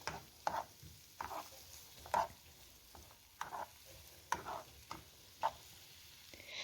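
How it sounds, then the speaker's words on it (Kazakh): Onions frying in a pan and being stirred, a soft steady sizzle broken by repeated sharp scraping strokes of the utensil roughly every second, close and fairly quiet. "Пиязды қуырып аламыз."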